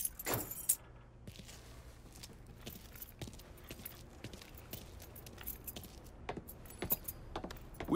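Keys jangle in the Mafia 3 video game: a faint, scattered metallic clinking with sharp ticks spread over several seconds, set against quiet background noise.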